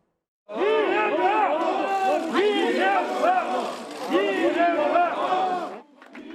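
A crowd of several hundred supporters cheers and shouts as former Korean president Lee Myung-bak arrives at his home by wheelchair after his release. Many voices overlap in a loud, steady roar that lasts about five seconds before dropping away.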